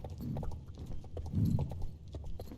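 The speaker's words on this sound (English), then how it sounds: "That horse runs so fast." Rapid galloping hoofbeats of a horse in the online game Star Stable Online, a steady close clip-clop rhythm running throughout.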